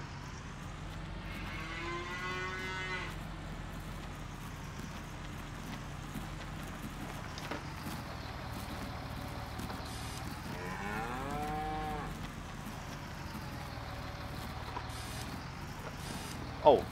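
Cattle low in the farm video game Hof Bergmann: a few drawn-out moos rise and fall, one near the start and another midway, over a steady background hum with a brief knock at the end.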